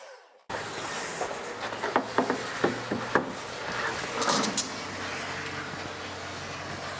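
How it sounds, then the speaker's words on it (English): A saw cuts 45-degree miters on door casing legs, starting abruptly as a steady, hissing whir that carries on with faint clicks and knocks throughout. "I'll cut my 2 casing legs and then we can look at assembling"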